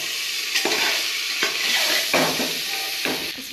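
Turmeric being stirred in a hot frying pan: a steady oil sizzle runs throughout, broken by about four distinct scraping stir strokes at a regular pace, close and fairly loud, with no talking.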